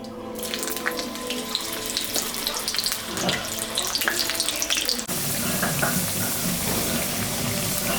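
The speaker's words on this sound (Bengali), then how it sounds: "আমি তেলের উপরে জিরা, শুকনো লঙ্কা, সম্বরা দিলাম, তেজপাতাও দিয়ে দিলাম।" Steady crackling sizzle of cumin, dried red chillies and bay leaves hitting hot mustard oil, broadband and continuous, growing denser and louder partway through with no voices.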